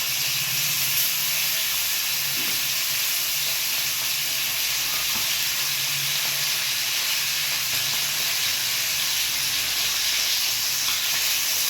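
Pomfret fish frying in hot oil for a mustard curry produce a loud, unbroken hissing sizzle that holds steady from start to finish, with faint clinks in the background.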